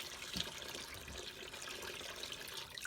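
Water runs steadily from a tap while raw wool fleece is rinsed, a faint continuous hiss and trickle with small splashes and drips, no voices.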